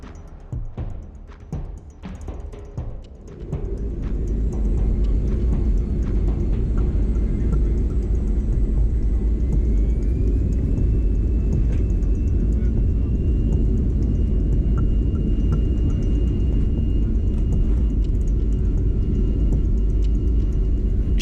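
An Air Baltic airliner on its takeoff run, heard from inside the cabin as a loud, steady engine roar and deep rumble that builds after a few seconds of quieter clatter, then holds constant.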